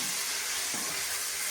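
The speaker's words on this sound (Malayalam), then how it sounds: "സവാള വാടിക്കൊണ്ടിരിക്കുകയാണ്" Sliced onions softening in oil in a home kitchen pan, an even hissing sizzle throughout with a brief low bump partway, no voices.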